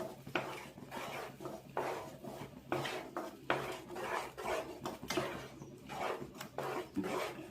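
A spoon scrapes and clinks rhythmically against a pan while ghee and oil are stirred for kesaribath, about ten steady strokes up close with no voices.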